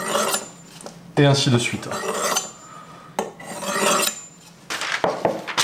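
A knife blade is drawn across the unglazed base of a mug to sharpen it, repeated close rasping strokes with a gritty scrape, with someone speaking French between them.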